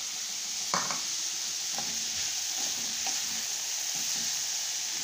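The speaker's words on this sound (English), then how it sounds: "I'm going to add in the French beans" French beans, already blanched and chilled in ice water, sizzle steadily in a hot frying pan of mixed vegetables, with a few stirring scrapes and light clatter of the pan over the continuous hiss.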